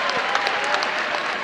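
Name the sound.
applause from crocodiles clapping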